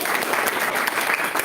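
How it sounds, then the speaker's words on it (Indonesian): Audience at a literary criticism session breaks into applause, a full, busy clatter of many hands at close range, steady and unbroken across the short stretch. "Bisa beri tepuk tangan sekali lagi."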